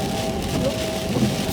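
Steady rain falls on a wet road outside a pretty little church at Milton on Stour, a dense, even patter that holds constant throughout with no voices.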